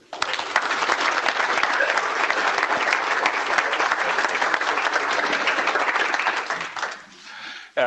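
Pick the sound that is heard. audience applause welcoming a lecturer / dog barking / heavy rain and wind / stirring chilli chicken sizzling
audience applause welcoming a lecturer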